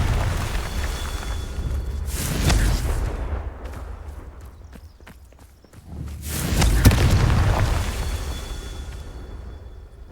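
Confringo spell blasts in Hogwarts Legacy, two loud booming explosions a few seconds apart, each with a rumbling tail, separated by a quieter stretch of sharp impacts.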